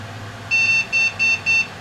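A computer motherboard sounds its POST error code as four short, high, evenly spaced electronic beeps. They come in a quick series over a quiet hum from the freshly built machine.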